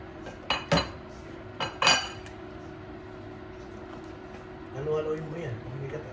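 Laing with shrimp stirred in a cooking pot, a few sharp clinks of a utensil against the pot early on, then softer scraping, with a voice talking.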